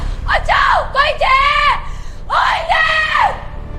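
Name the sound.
woman screaming, horror story sound effect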